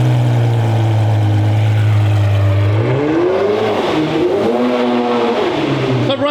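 A straight-piped Ferrari 599 V12 starts and settles into a loud, raw idle, then climbs into wavering revs that rise and fall, close and alone without talk.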